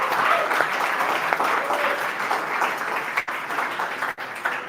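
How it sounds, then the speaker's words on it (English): An audience at a startup demo day applauds the presenting teams, a steady wash of clapping with a couple of brief dips in loudness. "Everyone give them a big round of applause."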